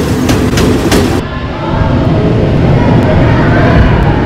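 A metro train in Manila, Philippines rumbles loud and close with a steady broadband roar, a few brief rattles early on, then a continuous rolling drone to the end.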